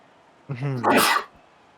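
A single loud, close sneeze: a quick voiced intake followed by a sharp hissing burst, then quiet.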